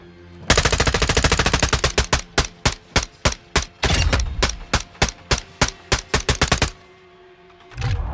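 Rapid automatic gunfire from the video game Call of Duty MW2 rings out in a long string of sharp, loud shots, first a fast burst, then spaced single shots, ending in a pause before one more burst.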